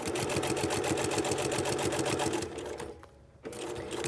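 Sewing machine running steadily with a rapid regular stitching rhythm while sewing a casual shirt collar at a 2.5 mm stitch length, close and loud, briefly slowing and pausing near the end before resuming.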